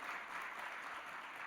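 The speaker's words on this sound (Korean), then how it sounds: "우리 큰 박수로 축하하겠습니다" A church congregation claps in congratulation after new deacons are appointed during a Sunday service, a brief, even wash of applause heard from a distance in a reverberant hall.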